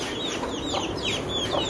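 Chickens and young chicks at a home farmyard, with busy high peeping from the chicks and soft clucking from the hens. The sounds are close and continuous, with chirps overlapping throughout.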